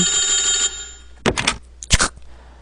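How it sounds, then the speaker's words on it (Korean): An old-style telephone rings with a shrill bell in a horror game, one sustained burst followed by silence and then two sharp clattering knocks. "전화 왔죠."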